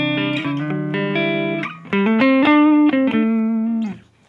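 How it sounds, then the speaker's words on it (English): A Gibson Custom 1966 EDS-1275 double-neck electric guitar is played on its 6-string neck with a clean tone: a series of ringing single notes and chords, some sustained and others short, clear and close with no talking. "I'm going to start off with the 6 string and just with a few clean tones here and there."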